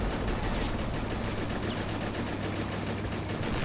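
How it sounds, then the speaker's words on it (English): A .30 cal machine gun in the real-time strategy game Men of War, sand-raking fire at Dubovka heard as a dense, continuous rattle of rapid shots, loud and steady throughout with no pauses, no talking. "this one isn't firing at anything, it's just shooting the sand"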